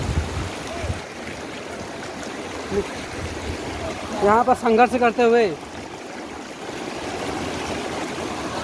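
The Kotabagh river near the waterfall, a tributary of the Dabka, rushes in a steady broadband wash close by, with someone speaking briefly over it and a short burst of squeaky, warbling sound in the middle.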